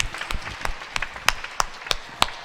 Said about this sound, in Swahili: Tumpe Bwana Yesu makofi rugamai.